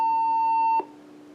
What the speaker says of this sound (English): my PBX's reorder tone sounded just like a dial tone with the way it was cut off